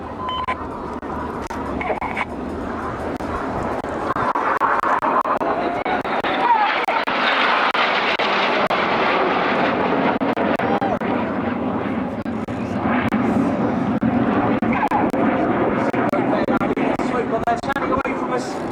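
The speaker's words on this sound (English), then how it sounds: "These 4 aircraft are now closing at 850 miles an hour." Red Arrows display jets closing at high speed: a loud, broad jet roar swells and sweeps past, then keeps rumbling, with a commentator's voice heard over it.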